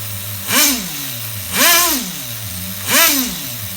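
An HPI RS4 nitro RC truck engine, an F150 body, runs on a bench during tuning, idling with a buzz and then giving three sharp revs spaced about a second and a half apart, each rising and falling back, loud and close.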